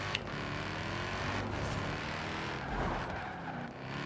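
A Mercedes-Benz E63 S AMG sedan's engine in Forza Horizon 4 drones steadily under load, a dense continuous roar with slight swells in pitch and no voices over it.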